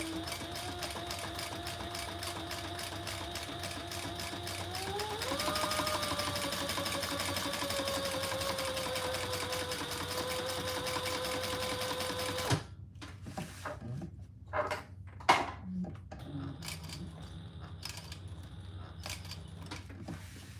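A sewing machine top stitching leather runs continuously in a fast, even whir that shifts to a higher pitch partway through, then stops, leaving scattered clicks and handling knocks.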